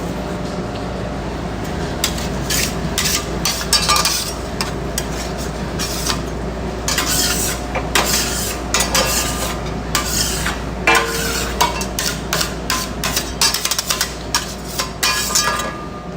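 Food searing in a hot pan on a home stove, a loud continuous sizzle broken by frequent scraping and clattering of a utensil against the pan, close and with no talking.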